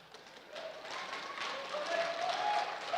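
A comedy-event audience bursts into applause and cheering, a dense crowd roar that builds over a few seconds and stays steady, heard from within the venue.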